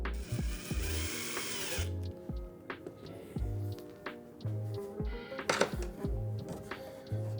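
A power drill drives two number 6 screws to secure a bracket for a hidden door book latch, with short whirring bursts separated by pauses and scattered handling clicks.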